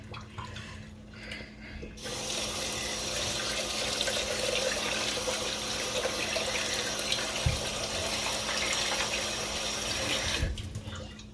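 Tap water runs steadily into a pot of leftover rice, filling it to soak, a continuous close splashing rush that starts abruptly and cuts off near the end.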